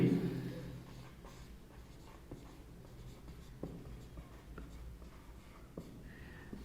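Pen or marker strokes scratch across a board or page in short, quiet bursts during a physics lesson on vector addition, following a brief sound at the start.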